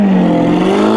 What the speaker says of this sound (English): that exhaust setup is crazy